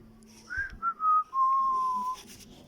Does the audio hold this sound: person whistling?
yes